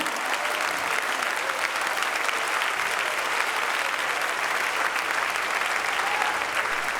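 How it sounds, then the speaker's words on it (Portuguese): A church congregation applauds forcefully during a sermon, a dense, unbroken roar of many clapping hands that holds at a steady level for several seconds. "Aplauda esse Deus com toda a sua força"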